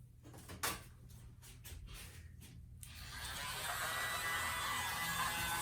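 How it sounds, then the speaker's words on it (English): A small handheld craft heat blower switches on after a few clicks and handling knocks, settling into a steady, soft, close whirring hiss. "Let me get my little blower out."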